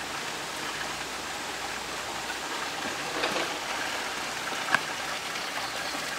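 Spring water flows steadily at Kucur in Kradinan, a constant close rushing wash with a faint splash or knock near the end and no voices.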